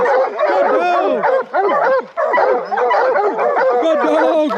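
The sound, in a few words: bear hounds barking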